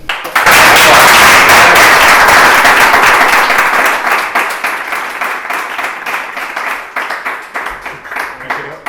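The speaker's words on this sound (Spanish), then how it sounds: "Un aplauso." An audience claps after an interview, a dense burst of applause that starts suddenly, holds strong, then thins into scattered fading claps.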